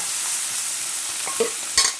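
Pav bhaji vegetables roasting and being stirred in a pan, a steady soft sizzle with a few scraping strokes near the end, close and alone.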